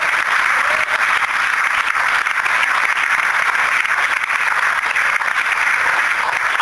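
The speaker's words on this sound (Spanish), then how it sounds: "puede dar una fuerte aplauso al Señor" Strong, sustained applause from a congregation clapping for the Lord during a Spanish-language sermon on Acts chapter 13, a dense, loud roar of many hands that stays constant throughout.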